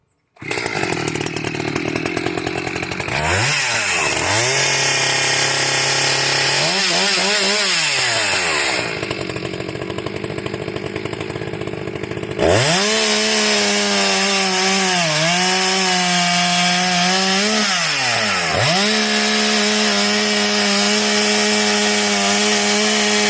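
An Echo CS-590 chainsaw with engine porting modifications cuts through wood, its loud engine revving and bogging under load in repeated cuts, with a brief idle stretch between passes and no talking.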